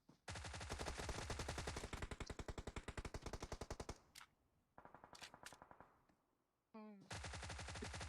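A Thompson submachine gun fires in PUBG Mobile, long rapid full-auto bursts that are loud and close, with a short pause and a reload clatter before a final burst.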